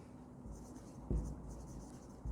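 Pen writing on paper in a handwritten bank reconciliation entry, a soft, close scratching with a couple of brief taps, heard alone with no talk.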